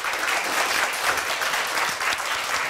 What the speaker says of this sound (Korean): 질문도 굉장히 열정적으로 답변을 해주신 회장님께 뜨거운 박수로 감사를 드리겠습니다.